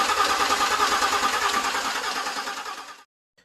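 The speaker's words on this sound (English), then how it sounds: "It will provide you to crank the engine without starting it" A car engine cranks over with its fuel pump fuse removed so it cannot fire: a loud, steady, rhythmic starter churn for about three seconds, then it stops abruptly.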